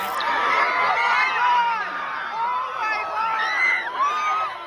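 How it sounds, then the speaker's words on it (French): A fan crowd at a Timothée Chalamet lookalike contest erupts as the real actor appears, with dense excited shouting, whoops and high cheering voices swelling and falling in waves close by. "une rumeur se fait alors entendre dans la foule"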